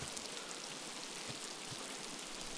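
Rain in the video game Miasmata falls as a faint, even hiss of steady drops that fills the whole stretch without breaks, with no voices.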